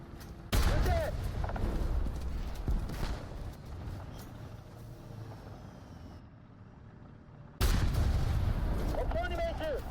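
Two loud, close tank cannon blasts in a video game, one near the start and another late on, each a sharp boom followed by rumbling decay, with battlefield noise and brief voice chatter in between.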